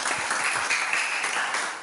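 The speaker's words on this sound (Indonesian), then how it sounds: "terima kasih untuk semuanya, tepuk tangan dulu" Students in a school classroom clap together in a steady, dense round of applause, close and fairly loud, with no talking over it.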